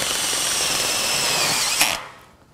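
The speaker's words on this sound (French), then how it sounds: "je vais pouvoir visser la lambourde sur la solive" A power drill drives a screw fixing a joist onto a beam in a metal-framed deck structure, one steady close whine for nearly two seconds before it cuts off and winds down.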